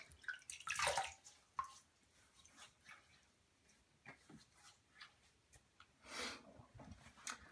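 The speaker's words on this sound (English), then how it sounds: "I'm going to rinse my face with a little bit of warm water." Warm water splashes as a face is rinsed by hand, a few close splashes and drips in a quiet room, with a brief faint dog-like yelp mixed in.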